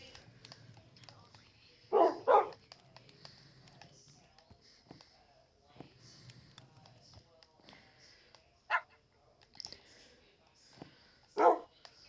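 Tamed wolves in Minecraft give short, sharp barks, a few separate yaps spaced several seconds apart, while a person talks quietly underneath.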